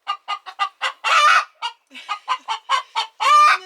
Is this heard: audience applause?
no